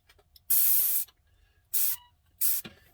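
Three short bursts of hissing spray from a spray gun testing its pattern on a model airplane, the first about half a second long and the next two briefer, separated by near silence.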